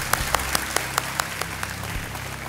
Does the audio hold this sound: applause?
yes